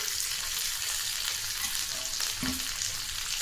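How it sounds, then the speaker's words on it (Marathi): Okra cooks in hot oil in a pan, giving a steady, close sizzle with a brief stirring clink partway through. "तेलामध्ये छान शिजते भेंडी"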